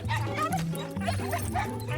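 Puppies yip and bark in a car insurance TV commercial, a run of short high yelps and whimpers over a steady music or background bed, fairly loud throughout.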